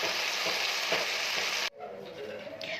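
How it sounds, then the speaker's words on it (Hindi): A mixed vegetable curry of potato, peas and carrot is stirred in a pot, a close sizzling scrape that cuts off abruptly partway, followed by quieter clinks and faint movement. "अब इसको अच्छी तरह मिक्स करूँगी"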